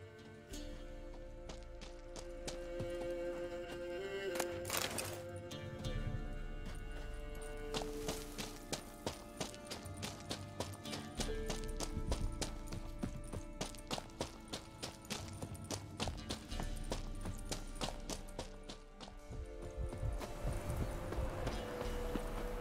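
Roach, the horse in The Witcher 3, gallops with a fast, steady clip-clop of hooves under game music and ambient sound, holding a driving rhythm nearly throughout.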